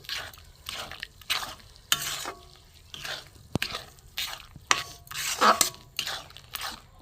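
Hands work rice flour into a dough in a bowl, making soft, uneven squishing and stirring sounds in bursts with short gaps. The sound is close and moderately quiet, and nobody speaks.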